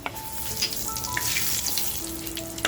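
Crushed garlic dropped into hot oil sizzles and crackles steadily for a few seconds, with faint clinks of a utensil in a home kitchen where a spicy crab curry with black masala is being cooked.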